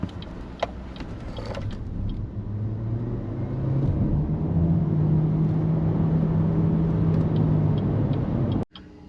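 A BYD Shark 6 hybrid ute accelerates hard from rest in a 0 to 100 km/h run, heard from inside as a steady rising drone and road rumble that grows louder, then cuts off abruptly near the end.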